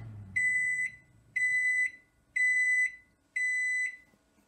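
A Panasonic 800W NN-E28JMM microwave oven timer beeps four times, each tone long and shrill, evenly spaced about a second apart, close and loud.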